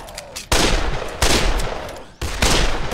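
Loud gunfire from the co-op zombie game Dead Island comes in dense bursts of rapid shots, with brief pauses between volleys and no talk over it.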